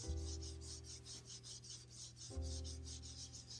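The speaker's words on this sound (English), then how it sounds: "I'm going to go in and scrub those little rust spots off" Small rust spots are scrubbed from a sink in steady back-and-forth strokes, a soft, rapid, rhythmic rasping heard close and faint, with a low steady hum underneath and no voices.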